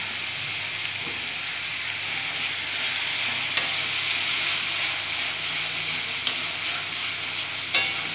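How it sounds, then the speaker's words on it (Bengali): Spices frying in oil with Kashmiri chili for a papaya and potato chicken curry, a steady close sizzle with soft stirring scrapes and a few sharp clinks, no voices. "যতক্ষণ না পর্যন্ত মশলা থেকে তেল চলে যায় আমি মশলাটা কষতে থাকবো"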